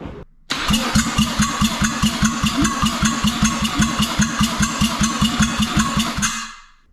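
The rotary engine of a Mazda FC under construction cranks over during a rotor compression test, a rapid even chugging from the starter that runs loud and close for about six seconds before stopping.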